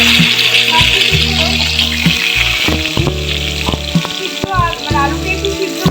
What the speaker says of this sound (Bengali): আলুকে একটু সিদ্ধ করিয়া এদিকে একটু ভাজা হল